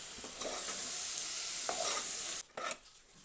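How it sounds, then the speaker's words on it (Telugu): A spoon stirs moong dal frying in a pan on low heat with a steady frying crackle, broken by a few scraping strokes near the end before the sizzle fades. "ఈ విధంగా కలుపుకుందాం చిన్న మంట మీద"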